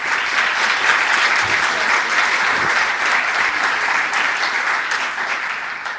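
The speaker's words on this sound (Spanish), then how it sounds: "Voy a pedir un aplauso para Sofía" A conference audience at a LACNIC internet policy forum breaks into loud, sustained applause, a dense even wash of clapping that holds steady and tapers slightly near the end.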